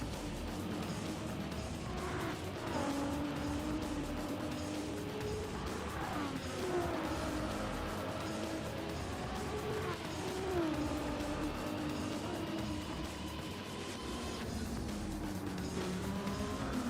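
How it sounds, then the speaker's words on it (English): A Lamborghini and a Ferrari supercar race each other in a video game, giving a steady engine drone with rising and falling revs and occasional gear-shift sweeps, sustained at an even, moderate loudness throughout. "Two Italian supercars, Lambo versus Ferrari"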